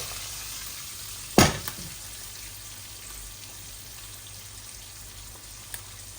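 Food fries gently in a pan for a Bengali tengra fish bhuna, giving a steady, soft sizzle with one sharp clatter early on that then settles back into a quiet hiss.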